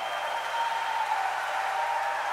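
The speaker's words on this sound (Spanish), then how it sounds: "prorrumpamos en una ovación de palmas al" A church congregation claps in ovation during Christian worship, a steady even wash of many hands heard at a distance, continuous and moderately faint, with no voices over it.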